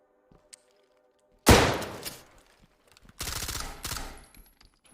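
An SMG fires full auto in a video game: two loud, separate rapid bursts, the first a short sharp volley and the second a longer rattling string, with faint clicks and near silence between them.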